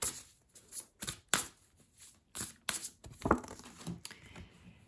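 A deck of Heart's Path Oracle cards is shuffled and handled close up, with a string of quick riffling bursts and soft papery slides separated by short quiet gaps.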